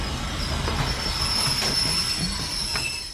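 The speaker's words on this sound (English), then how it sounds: "Oh no, here comes Troy the train" A cartoon train brakes on its rails with a continuous loud metallic wheel squeal over a rumbling rolling roar, steady throughout and fading slightly at the end.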